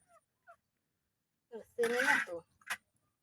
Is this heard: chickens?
yes